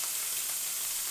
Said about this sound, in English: You hear that? Extra hard sizzle.